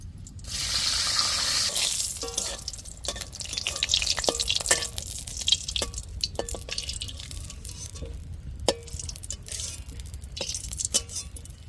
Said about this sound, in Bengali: লতাটা ভেজে নেব কড়াইতে তেল দিচ্ছি